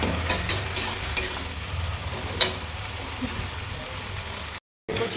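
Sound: stirring and frying taro leaf greens in a pan

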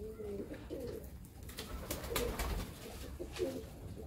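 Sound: pigeon cooing

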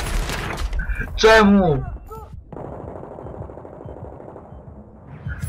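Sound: gunfire in the video game Battlefield 3

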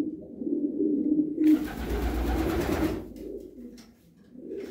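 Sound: racing pigeons cooing

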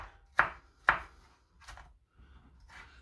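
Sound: knife dicing tomato into small cubes

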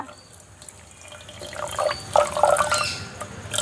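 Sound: water poured over sugar in a pot

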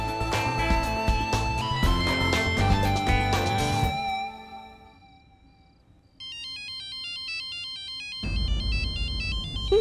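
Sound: phone ringtone

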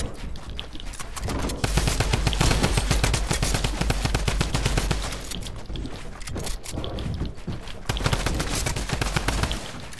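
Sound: gunfire in a video game

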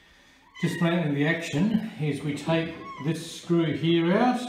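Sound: cat meowing

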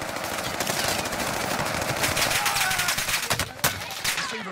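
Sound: gunfire in Warzone video game

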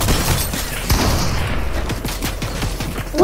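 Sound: gunfire in the video game Fortnite

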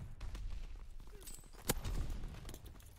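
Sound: grenade explosion and gunfire in Call of Duty WWII video game

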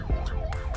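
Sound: ambulance siren passing

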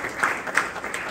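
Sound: audience applause at lecture honoring sponsors

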